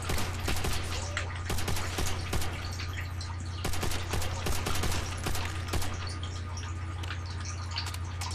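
Rapid gunfire from a weapon in Call of Duty: World at War Nazi Zombies, a steady stream of sharp shots over a constant low hum, fairly loud throughout with a faint voice at moments.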